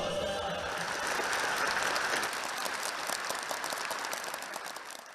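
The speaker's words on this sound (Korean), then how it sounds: "명곡들을 열창하며 아낌없는 박수갈채를 보냈습니다" A large concert audience applauds after performers sing patriotic songs, a dense, sustained wash of clapping heard at a moderate distance and slowly fading toward the end.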